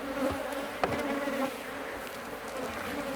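Honeybees buzz steadily around an opened hive being reassembled, a close, dense hum with a few brief knocks and bumps mixed in.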